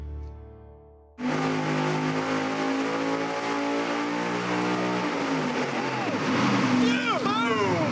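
A 1,500 hp supercharged big-block Chevy engine on a dyno fires up abruptly and roars at a sustained loud pitch, its tone rising and wavering, while excited voices shout over it.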